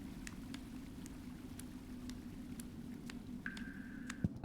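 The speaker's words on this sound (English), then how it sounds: "I personally like the sound of running water." Soft, continuous running water in the video game The Longing, a faint steady wash with small ticks scattered through it and a brief tone near the end.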